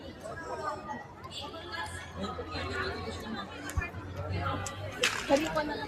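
Crowd chatter at a busy fair with stalls set up in old-style huts and blankets on sale: a steady babble of many nearby voices with scattered clinks and knocks, and a brief hiss toward the end.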